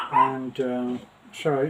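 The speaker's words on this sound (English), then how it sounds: "you'll have to excuse the dogs. They're right behind the door." Several Pomeranians bark and yip from just behind a door in a short burst of high, sharp barks, with a person briefly talking between them.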